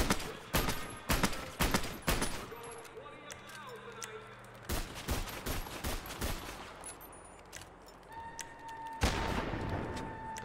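Heavy pistol shots from a FiveM sound pack in a video game: a series of sharp, loud cracks in irregular bursts, some in rapid pairs, with brief gaps between shots and no talking.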